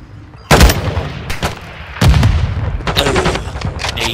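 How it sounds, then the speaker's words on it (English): Sharp, loud gunshot bursts from Call of Duty: Modern Warfare II ranked multiplayer, with two heavy blasts followed by a run of rapid rattling shots, close and punchy. "He just shot me through the walls."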